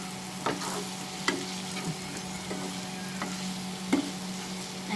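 Long beans and potatoes frying in a pan for aloo barbati ki sabzi, with a steady low sizzle and a few sharp spoon scrapes and clinks as the mixture is stirred.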